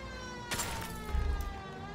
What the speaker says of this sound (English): I'm just trying to turn the sirens on.